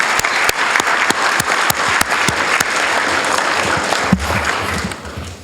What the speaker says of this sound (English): I would like us all to give ourselves a round of applause for that